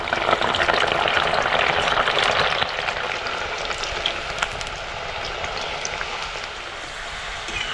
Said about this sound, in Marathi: आता ह्या तेलात आपल्याला ही बघा लसूण अशी लाल करून घ्यायची आहे.